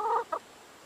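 A chicken gives two short clucks, the first longer and the second a brief blip, close and clear, followed by quiet.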